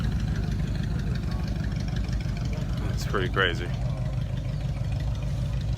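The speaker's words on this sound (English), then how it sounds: "Oh, Boss 302 just creeping in, sounding good" A Ford Boss 302 Mustang fastback rumbles low and steady as it creeps in at a cars and coffee meet in Nashville, a deep continuous engine drone with a brief spoken remark partway through.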